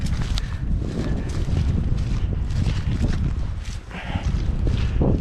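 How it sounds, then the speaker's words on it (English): Strong outdoor wind buffets a microphone in a steady low roar for the whole stretch, easing briefly near the four-second mark before gusting back up; no talking is heard. "It is windy."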